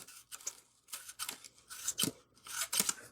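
Several quick, crisp snips of spring-loaded tactical scissors in bursts, close up and quiet, with short pauses between clusters of cuts.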